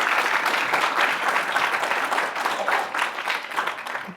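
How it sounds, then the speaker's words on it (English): A lecture hall audience at an innovation talk breaks into brief applause. The clapping is thick and continuous and holds fairly even throughout. "Yeah, you can applaud, it's okay."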